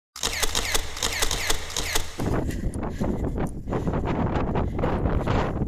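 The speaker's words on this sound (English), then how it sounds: "Every time I come here, it's so cold and windy here." Strong, cold wind on Clougha Pike in the Forest of Bowland fells buffets the microphone in a constant loud rumble, with some rhythmic mechanical clicking at the start.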